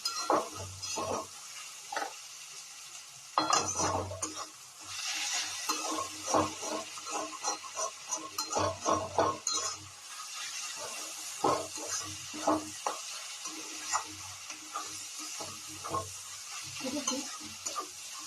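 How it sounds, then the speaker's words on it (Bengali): Onion and capsicum fry in a pan, with a soft steady sizzle under repeated scraping stirs of a spatula, close and fairly quiet, alone without talk. "আমার পেঁয়াজটা আর ক্যাপসিকামটা খুব ভালো করে ভাজা হয়ে গেছে"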